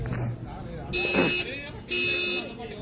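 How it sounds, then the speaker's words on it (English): Two loud electronic buzzer-like alarm blasts, each about half a second, go off at a local cricket match between Geelong sides, with commentators talking over and between the tones. "The alarm going off from the Lankans."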